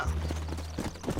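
Horse hooves clip-clop in the video game Red Dead Redemption, a quick run of close, steady hoof beats over a low rumbling background, lasting about a second.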